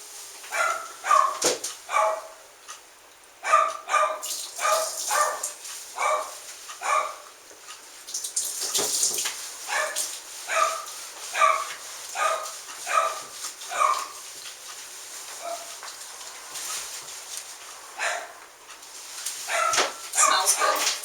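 A dog yips, whimpers and barks in quick repeated bursts, close and fairly loud, during a medicated bath with water, with short pauses between the cries.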